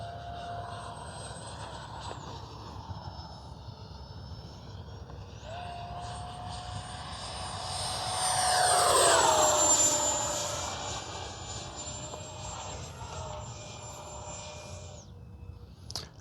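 A Freewing 80mm F-22 Raptor RC jet whines overhead, its high ducted-fan tone sliding in pitch as it passes, swelling to a loud roaring flyby midway and then fading back to a distant steady whine.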